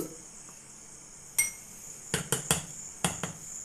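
Soap-making ingredients are stirred together in a container, heard as a few sharp scraping knocks and clinks in irregular bursts against a quiet background, with no talking.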